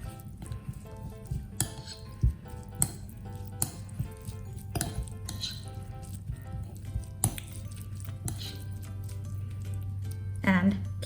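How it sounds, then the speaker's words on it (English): A utensil clinks and squishes against a bowl while olive oil and minced garlic are stirred together, scattered taps over a steady low hum. "Now we'll add the remaining olive oil and our minced garlic. Just give it a quick mix."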